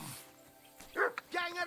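Dog in the video game Kingdom Come: Deliverance II giving a couple of short yips and barks close by, mixed with a voice talking.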